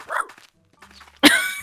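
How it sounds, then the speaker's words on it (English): A single loud bark from a dog in the farming game Staxel rings out near the end, sharp and close, after a quieter stretch of faint game sounds and a brief mumble. "Oh, they bark now!"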